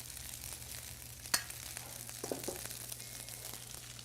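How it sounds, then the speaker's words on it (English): Asparagus stirred into a hot pan of food gives a steady low sizzle and frying crackle, with a brief sharp clink of a utensil near the start and soft scraping after it, close by with no talk. "Stir in a little bit of asparagus."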